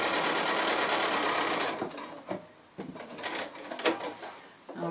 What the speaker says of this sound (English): So I'm just going to go and stitch that now.